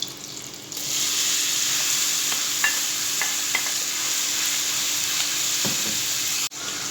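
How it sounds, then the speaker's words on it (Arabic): Minced meat goes into a pan of melted butter and fries with a loud, continuous sizzle right up close. A few faint clicks of stirring sound beneath the hiss, with no voices. "هنا خلاص بقى الزبده ساحت، هنزل باللحمه المفرومه"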